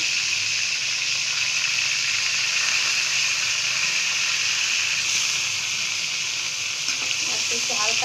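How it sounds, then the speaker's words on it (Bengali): Giant freshwater prawns sizzle as they are lightly fried in a pan, a close, steady hiss of crackling oil that carries on evenly throughout with no talking. "হালকা করে ভাজা দিয়ে নিব।"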